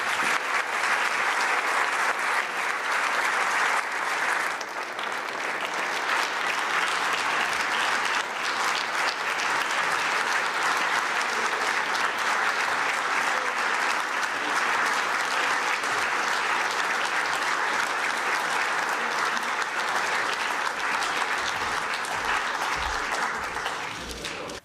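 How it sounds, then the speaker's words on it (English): Sustained, dense applause from a large conference audience at the Munich Security Conference 2022, greeting the Vice President of the United States; steady and loud throughout with no speech over it. "offer to the Vice President of the United States a warm round of applause"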